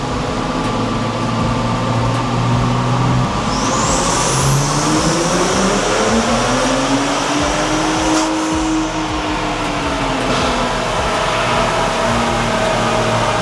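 A 2024 Ford Raptor with a tuned 3.5L EcoBoost engine revs on a dyno, a loud sustained drone whose pitch climbs steadily through a full pull, with a rising whine on top, then eases off near the end.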